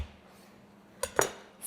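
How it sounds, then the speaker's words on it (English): A kitchen knife slicing down through a fennel bulb on a cutting board: a couple of brief, crisp chopping knocks close by, the second a little sharper, in an otherwise quiet room. "for this fennel bulb, I am going to cut it down the middle"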